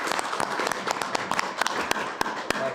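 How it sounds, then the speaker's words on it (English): Council meeting audience applauding volunteers, a short burst of moderate clapping in a room with distinct individual claps scattered through it. "So let's give them another round of applause."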